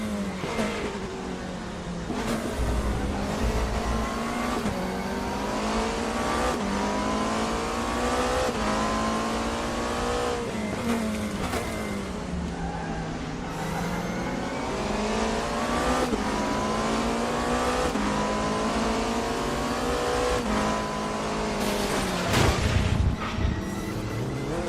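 Race cars at Daytona in the RaceRoom racing game, engines roaring and revving continuously with rising and falling pitch as gears shift, loud and close with the buzz of nearby cars throughout.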